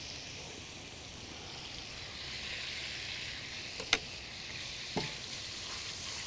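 Garlic frying in oil in a pan, a soft steady sizzle with a couple of sharp clinks of the spoon stirring, fairly quiet and close.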